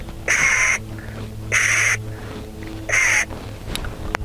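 A duck call is blown with the air restricted by the tongue, giving three loud, evenly spaced, nasal honking quacks about 1.3 seconds apart, each lasting under half a second, close and alone.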